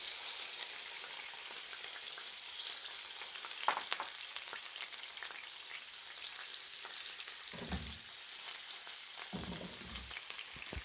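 Boneless chicken sizzles steadily in a preheated pan, a continuous close crackling hiss with a few stirring scrapes and brief low clunks partway through.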